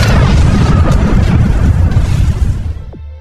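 A gunshot from a film's shootout scene, a loud booming blast that fills the clip and then decays into a falling tail, with no talking.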